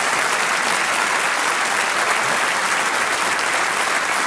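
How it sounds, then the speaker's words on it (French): Studio audience applause at a televised comedy impressions quiz show fills the clip with loud, dense, sustained clapping from start to finish, with no talking over it. "On vous applaudit"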